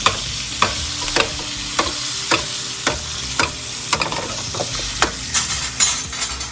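A T-bone steak with vegetables sizzles in a hot pan, a steady loud frying hiss broken by regular sharp clicks and scrapes of a utensil stirring and moving the food.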